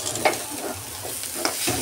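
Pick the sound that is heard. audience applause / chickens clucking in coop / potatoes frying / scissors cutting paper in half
potatoes frying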